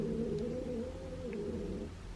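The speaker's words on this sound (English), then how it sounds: "he's growling the whole time." A cat growls low and steadily from close by, a continuous rumbling without pause.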